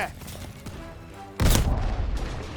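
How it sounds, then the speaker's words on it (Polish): A barrel explodes in the Call of Duty Vanguard video game, one sudden loud boom that breaks in after a quieter stretch of game noise and leaves a rumbling, crackling tail. "Czy właśnie mi wybuchła beczka w twarz?"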